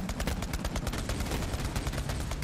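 Continuous rapid gunfire in Borderlands 3, a dense, loud stream of automatic shots with pounding low thuds and no pause throughout.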